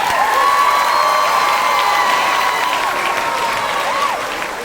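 A school audience of children cheers and applauds at a celebration, a loud, steady wash of high shouting voices and clapping that holds for several seconds before easing slightly toward the end.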